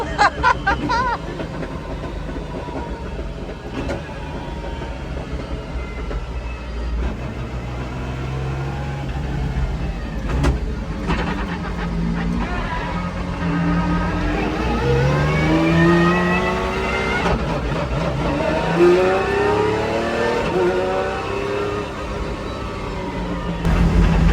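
A Pagani Zonda R race car engine roars loudly and close in a convoy with a second Zonda R, its revs climbing and falling in long sweeps with sharp backfire cracks, continuous throughout.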